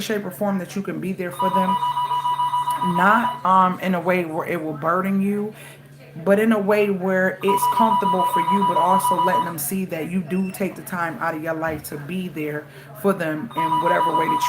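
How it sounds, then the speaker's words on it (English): A phone ringing in a repeating electronic pattern runs under steady close talking by a woman throughout. "Her phone is ringing."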